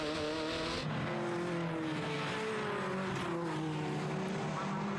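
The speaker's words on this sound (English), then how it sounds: "Squeal of tyres." TVR Tuscan Challenge race cars scream past at full throttle in a 2003 circuit race, a loud sustained engine roar with rising and falling pitch and some tyre squeal under it.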